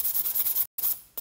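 A nail file rasps quickly back and forth across a long artificial nail, close and rhythmic strokes broken by one short pause.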